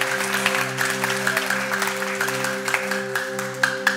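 Church congregation applauding together in a steady, full round of clapping during a weekend worship gathering, over a sustained droning musical tone underneath.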